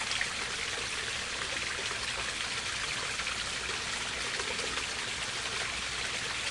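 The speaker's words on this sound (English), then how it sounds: "It has a pump system and a very crude filter that pumps it up into the waterfall up above" A pump-fed waterfall spills into a roughly 1,000-gallon koi pond, a steady close splashing and trickling rush that continues evenly throughout with no voices.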